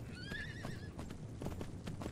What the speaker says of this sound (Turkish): Şu atı yakalayabilsek ama